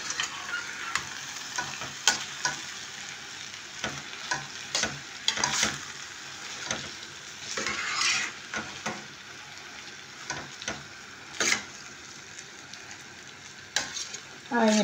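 Bulgur sautéed in a pan sizzles softly while a spoon stirs it, scraping and clicking in irregular bursts, close and fairly quiet with no talking.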